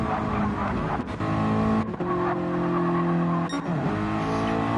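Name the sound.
race car spinning out with tires skidding, from video game Gran Turismo 7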